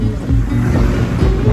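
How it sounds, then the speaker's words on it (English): Wind blowing across an open mountain road in light drizzle, a steady low rumbling buffet close to the microphone that runs unbroken throughout. "It's kind of windy."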